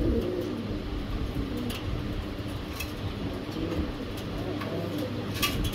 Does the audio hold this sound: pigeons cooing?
yes